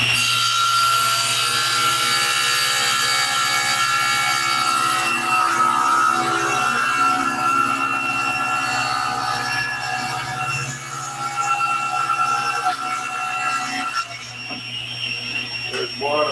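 A table saw rips a board with the blade set a quarter inch above the wood, a steady loud whining drone with a rougher cutting rasp that fades near the end, close by, with no clear talk.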